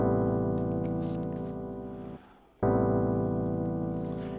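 A soulful minor ninth chord for a deep house track sounds as a dense, loud sustained synth pad with a steady pulsing texture, briefly cut off midway and then resuming just as full.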